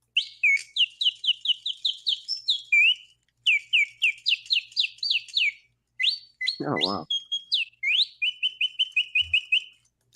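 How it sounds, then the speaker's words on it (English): A 120-year-old mechanical singing bird automaton trills and chirps in fast repeated high whistled phrases, loud and close, with a brief pause midway and a short exclamation from a voice. "Now here is 120-year-old singing bird mechanism."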